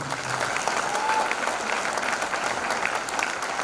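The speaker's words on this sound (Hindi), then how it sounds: "एक जोरदार ताली होनी चाहिए" A large audience at a motivational business event claps loudly and steadily, a dense, continuous roar of applause with no pauses.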